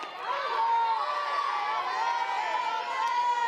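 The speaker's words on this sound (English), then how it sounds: "You can hear all the chanting and yelling from the dugouts." Chanting and yelling from the dugouts at a college softball game between Liberty and Longwood, a sustained crowd of voices filling the building with steady, energetic noise at moderate distance.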